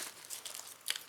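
Thin plastic wrapping crinkles and rustles around the parts of a rechargeable cordless dental oral irrigator, handled up close in quick, irregular bursts that end in a sharper crackle.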